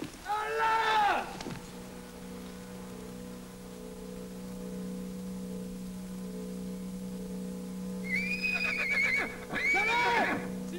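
A horse whinnies loudly twice, once at the start and again near the end, each a shrill, wavering neigh over a steady low hum, with a faint clip-clop in between.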